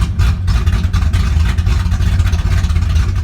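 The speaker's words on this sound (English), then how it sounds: "The idle is really smooth." A Ford Mustang Foxbody, freshly fitted with a new intake manifold and new wires, idles smoothly with a steady, even low rumble. It is close and loud throughout, with no talking.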